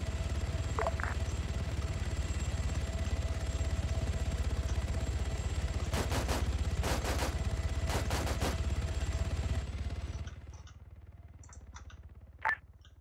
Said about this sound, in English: we currently have a gunship attacking us